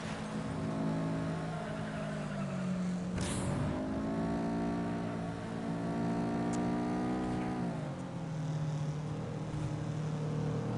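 A racing car's engine drones loud and steady in the Flat Out game, its tone rising and falling as the car speeds up and changes gear, with a brief whoosh partway through.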